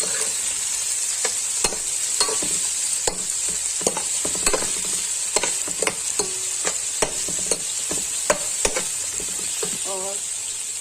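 Mutton frying and being stirred with onions in a pot for dum biryani: a constant bright sizzle punctuated by a rapid series of spoon scrapes and knocks against the pot, near and loud, with no talking.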